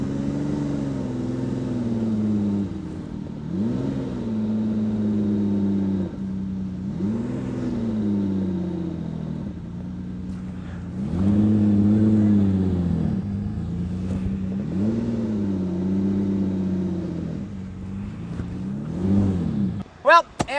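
A Lamborghini Countach engine while reversing: a deep, steady idle rumble with repeated gentle rises in revs as the car creeps backward, close and continuous, ending with a short sharp clatter.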